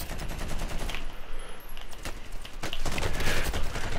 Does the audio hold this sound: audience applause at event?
no